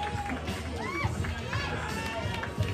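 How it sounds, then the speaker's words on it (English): A virtual wrestling arena crowd in a video game cheers steadily as a competitor makes his entrance, a continuous roar under a commentator's voice. "And the crowd seems to be in favor of Jiggy Sosa"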